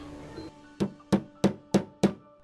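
A hammer knocks five times in a steady, evenly spaced rhythm, each blow a sharp, close thud after a quieter moment of faint room tone.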